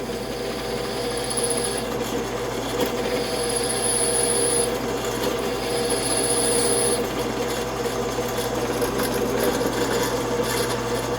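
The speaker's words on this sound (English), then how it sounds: "So I ought to be able to get this 5mm through here." A cobalt bit drills a 5mm hole through hard chrome vanadium steel, giving a steady, continuous grinding rasp with a constant motor hum throughout, close and alone with no talking.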